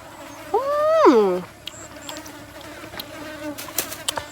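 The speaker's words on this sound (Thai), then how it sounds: "ขออภัยที่เสียงแมงวัน" A loud, close housefly buzzing sweeps up and down for about a second, then fades into a quieter background with a few faint clicks.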